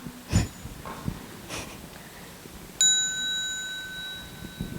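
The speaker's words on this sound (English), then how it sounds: "at the sound of the small bell, you can bow to the Sangha that way" A small meditation bell struck once at a monastery retreat, a clear ringing tone that sustains and slowly fades after a few faint soft knocks and breaths.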